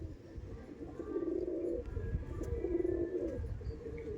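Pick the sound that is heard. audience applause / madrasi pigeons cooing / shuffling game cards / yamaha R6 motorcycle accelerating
madrasi pigeons cooing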